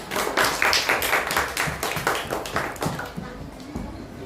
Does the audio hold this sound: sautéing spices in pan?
no